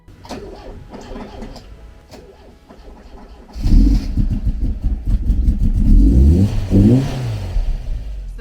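A Porsche 924, unstarted for over a year, cranks briefly and then catches, its engine bursting into loud, close revving that rises and swells over several seconds, with no voices.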